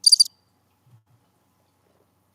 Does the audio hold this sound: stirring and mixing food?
no